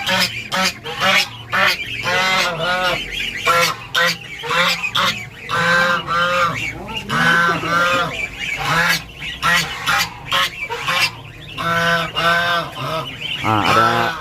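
Geese honking loudly and repeatedly in a village setting near a pond, with many overlapping calls in quick irregular bursts from close by, continuing throughout.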